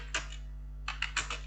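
Computer keyboard keys pressed while entering a database name: a single keystroke, a pause, then a quick cluster of three or four taps, faint and close over a steady low electrical hum.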